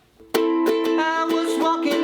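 Ukulele strums the bridge chords of a song, a series of bright strummed chords in a steady rhythm, close and alone.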